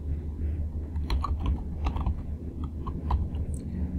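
Someone types a Python print command on a computer keyboard, quick irregular key clicks clattering near and clear over a low background hum, with no speech.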